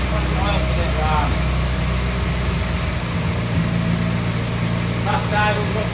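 A Morris Minor engine idles steadily after a cold start following a carburettor rebuild, a constant low mechanical hum running throughout while people talk nearby.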